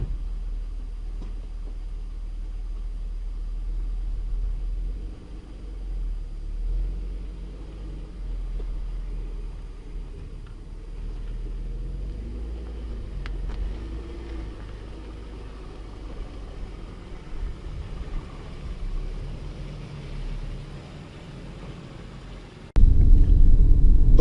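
BMW engine idling as it warms up, a low, steady rumble heard faintly from nearby for a long stretch, with a sudden louder burst of noise right at the end.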